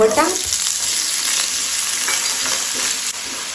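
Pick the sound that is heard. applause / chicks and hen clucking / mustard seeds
mustard seeds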